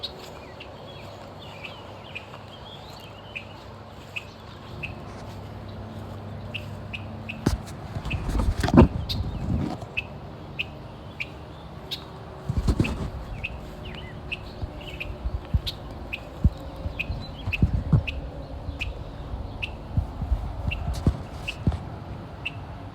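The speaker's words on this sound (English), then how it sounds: "That is one angry bird, y'all." A bird chirps angrily near its nest in roadside bushes, short repeated calls over steady background hum, with a couple of louder close rustling bursts.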